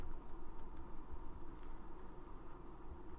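Keystrokes rattle steadily on a computer keyboard as PHP code is typed, a continuous run of close, fairly quiet clicks with no voices over them.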